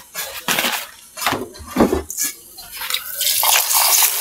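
Moong, chana and masoor dal are washed in water by hand, with close, uneven sloshing and splashing bursts, light clinks of a pot, and a steadier pouring rush toward the end.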